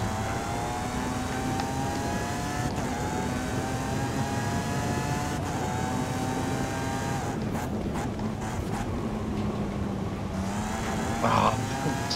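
Race car engine in Forza Horizon 5 on a custom Motorsport Mexico track, a steady sustained drone with shifting pitch across the whole stretch, loud and constant, with brief gear-change dips near the end.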